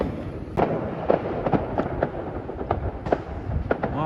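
Fireworks and firecrackers go off in the distance on a night walk, sounding as a rapid irregular series of sharp bangs and pops over a rumbling background, with no talking.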